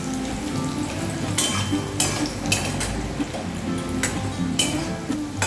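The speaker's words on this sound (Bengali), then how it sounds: "এইভাবে আমি ডিপ ফ্রাই করবো" Chickpeas deep frying in hot oil, giving a steady, close bubbling sizzle with occasional metallic clinks and scrapes of a utensil against the pan, no voices.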